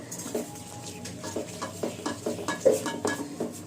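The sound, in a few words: stirring and roasting egg korma masala in a pan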